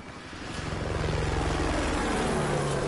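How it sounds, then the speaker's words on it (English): A video game helicopter flies overhead, its rotor chop and engine drone swelling louder and holding steady as it passes close by. "Helicopter."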